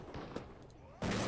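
In the video game Police Quest: SWAT, a shotgun goes off accidentally in a single loud, sharp blast that follows a stretch of low game noise.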